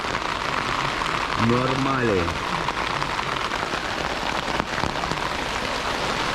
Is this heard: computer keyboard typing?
no